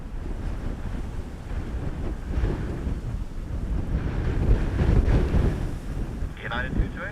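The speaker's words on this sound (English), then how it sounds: "surface wind 280 degrees and 25 knots, maximum 35 knots" Strong, gusting wind during Storm Floris at Dublin Airport buffets the microphone in a loud, continuous roar that swells and eases, with a faint tonal sound near the end.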